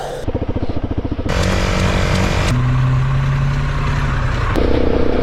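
A motorcycle engine loud and close, sputtering at idle and then revving hard in sustained bursts, with a brief drop in pitch between.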